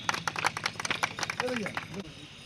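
Rapid, rhythmic clapping from a crowd at a village kabaddi tournament final as gold and silver medals go to the players, with voices calling out over it.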